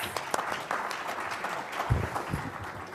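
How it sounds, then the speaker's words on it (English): A short burst of audience applause at a community meeting or book club gathering, scattered irregular claps with a few louder hits, fairly close and moderately loud, no speech over it. "He needs a round of applause."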